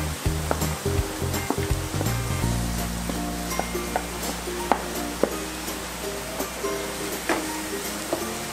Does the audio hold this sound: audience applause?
no